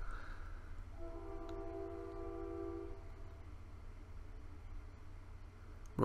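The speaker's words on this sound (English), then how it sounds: "if this train by my house does not fuck off peacefully, it's going down" A train passing near a house sounds a faint, distant horn for about two seconds over a low rumble of rail traffic, which then continues quietly.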